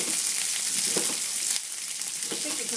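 Mushrooms fry in a pan with a steady, close sizzle and a few soft stirring scrapes, while a voice murmurs faintly now and then.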